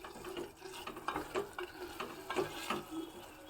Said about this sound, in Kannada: ಹಾಗಾಗಿ ಆ ತುಪ್ಪದಲ್ಲೇ ಸ್ವಲ್ಪ ಫ್ರೈ ಆಗಬೇಕು